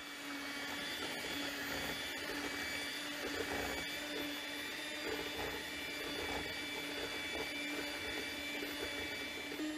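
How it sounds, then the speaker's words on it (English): Electric mixer whipping cream into butter, a steady continuous whirring drone with a strong motor hum, close and alone without talk for the full length. "I have been mixing for 2 or 3 minutes, and it's at the whipped cream stage"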